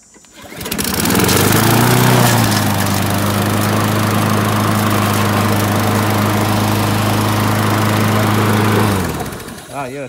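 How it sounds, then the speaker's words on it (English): A small engine, apparently a lawn mower, fires up cold and runs loud and steady with a low droning hum and slight roughness for about seven seconds before cutting off, with a few voices faintly under it. "Gotta make sure the engine runs a little smooth"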